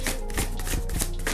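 Tarot cards being shuffled by hand, a short burst of soft riffling and papery taps in a quick irregular rhythm, close and fairly quiet, with no talking.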